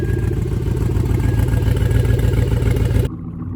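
Pontiac G8 GT with a stock 6-liter V8 and a leaky exhaust manifold, running with a loud, rapid ticking rumble that cuts off abruptly near the end, leaving a quieter low drone.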